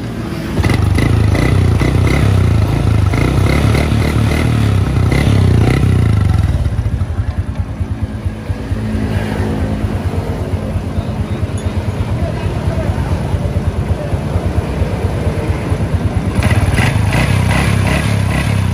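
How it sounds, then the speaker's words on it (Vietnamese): A 2009 Honda Wave RSX motorcycle engine idles and revs, a steady close-up putter rising and falling in pitch, with the loudest revving near the start and end. "Giờ nổ máy anh em nghe thử này."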